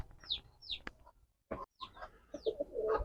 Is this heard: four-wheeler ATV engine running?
no